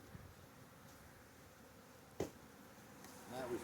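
Faint honey bees buzz in a low, continuous drone, with a sharp knock partway through and a slight rise near the end.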